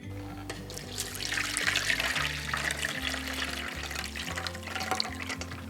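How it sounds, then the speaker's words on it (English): Kombu vegetable broth is poured through a strainer, a steady close trickle and splash of liquid running for several seconds under soft background music. "I'm gonna go ahead and strain the soup."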